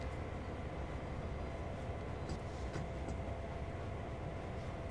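A train rolls past in the railway simulator Train Sim World 2, a steady broad rumble and rattle of rail cars with faint clicks, continuous and fairly quiet with no talking.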